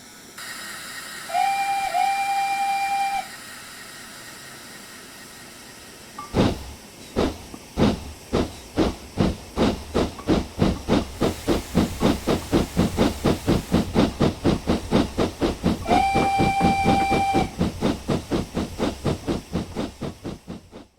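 A steam train sounds its whistle twice, bracketing a steady hissing chuff that starts slowly and quickens into a rhythmic beat as it runs along the rails, close and loud.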